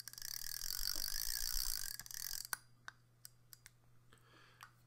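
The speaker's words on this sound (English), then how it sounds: "When you turn the anti-reverse on, there's an audible clicking sound." Dry mechanical clicks from the anti-reverse clicker of a Shakespeare Alpha spinning reel, a steady run of separate ticks heard close and alone after a burst of louder noise fades.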